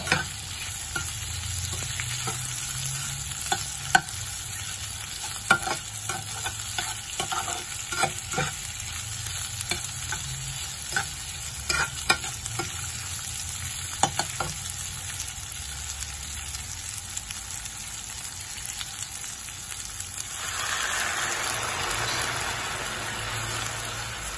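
Rice vermicelli noodles (bihun goreng) seasoned with salt and stock are stir-fried in a pan, giving a continuous sizzle broken by repeated scraping and tossing clicks from the utensil. The sizzle grows louder near the end.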